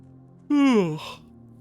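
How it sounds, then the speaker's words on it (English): A man yawns once, close and fairly loud, the voiced tone sliding downward for about half a second before trailing off into a breathy exhale, with quiet background hum and no talking. "Sorry about my yawns."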